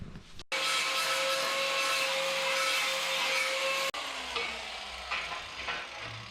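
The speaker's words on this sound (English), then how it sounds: "take the angle grinder with the flex disc or a flap disc, clean all 4 sides of every end of this metal" An angle grinder fitted with a flap disc grinds mill scale off the ends of steel pieces, a loud steady whine that cuts off abruptly and is followed by quieter scraping and handling noises.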